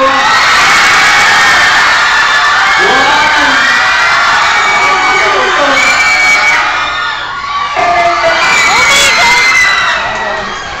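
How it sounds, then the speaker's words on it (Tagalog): Partygoers shout and cheer loudly and without pause, many overlapping voices whooping and yelling close by, with a brief dip before the noise surges again. "Yung pinakamalakas na sigawan sa kanya na ito."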